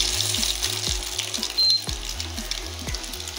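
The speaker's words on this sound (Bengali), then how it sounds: "এটা আমি যে গরম তেলে দিয়ে দিলাম" Mughlai paratha, an egg-filled flatbread, fries in hot oil with a continuous close sizzle and crackle, while faint rhythmic mechanical thumps run underneath.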